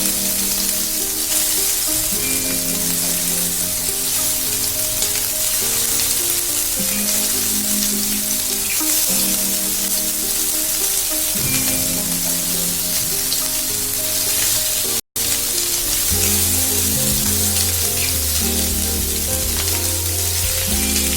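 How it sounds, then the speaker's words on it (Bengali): Prawns sizzle in hot oil in a pan for a Bengali prawn malaikari, a steady, loud, continuous frying hiss with constant background music tones underneath and a brief cut near the end. "তেলটা গরম হয়ে গেছে, আমি এবার চিংড়ি মাছগুলোকে দিয়ে দিচ্ছি।"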